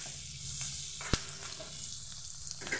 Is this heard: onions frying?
yes